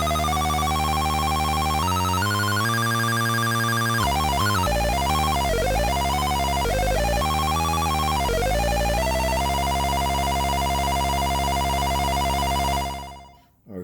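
A buzzy square-wave tone from a DIY analog synth rises in steps and then trills rapidly like an old telephone ring before settling on a steady held note that cuts off.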